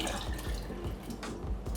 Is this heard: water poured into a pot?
yes